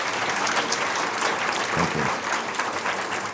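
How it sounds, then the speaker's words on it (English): A crowd at a talk on compassion claps in a loud, continuous wash of applause, with a voice briefly speaking over it near the end. "So a round of applause,"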